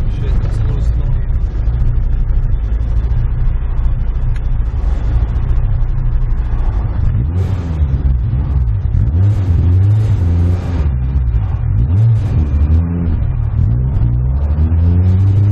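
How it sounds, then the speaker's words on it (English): A Honda car fitted with Hondata traction control accelerating at full throttle, a loud close engine drone rising and sweeping in pitch as it pulls through revs, with a person speaking over it. "I gotta go full throttle"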